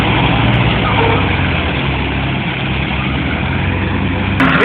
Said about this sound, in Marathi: निघालेला ट्रॅक्टर आपल्या काकाची ट्रायली घेऊन